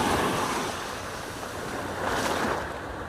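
Sea waves washing in along the shore during a fishing outing, a continuous rushing surf that swells at the start and again near the end, close and moderately loud with wind noise on the microphone.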